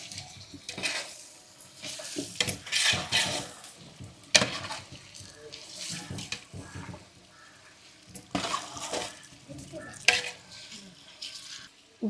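A spoon stirs a food mixture in a pan with repeated scraping and soft sizzling bursts, close and moderately loud, coming in irregular strokes with short pauses between them.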